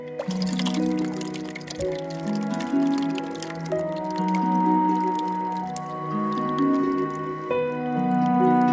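Thick rice pudding (payesh) poured from a pot into a bowl in a home kitchen, a wet squishing, dripping pour with glugging tones, close and continuous, with no talk over it.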